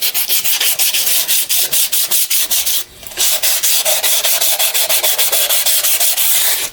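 Coarse-grit abrasive is rubbed back and forth over a cast iron part of a Farmall Cub tractor, making loud, rhythmic rasping strokes in rapid succession with one brief pause partway through.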